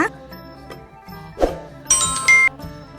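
A short notification bell chime rings twice in quick succession over background music near the end of a spoken sign-off.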